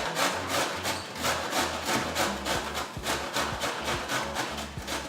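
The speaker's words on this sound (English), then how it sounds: "So let me show you what it looks like when you grate it." Cauliflower grated by hand on the wider side of a box grater, a steady run of rough, rhythmic scraping strokes close up, with no talking.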